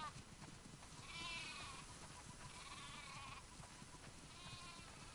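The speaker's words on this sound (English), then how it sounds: "Listen up, sheep. Your dinner awaits you in the barn, so come on." Sheep bleating on a farm in The Last of Us Part II video game, several wavering calls rising and fading one after another over a quiet, low background rumble.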